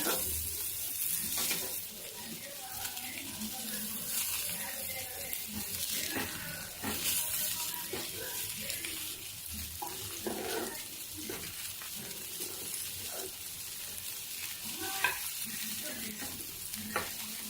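Stuffed bitter gourds frying in oil in a pan, flipped over now and then; a moderate, steady sizzle and crackle with occasional turning clatter, no speech.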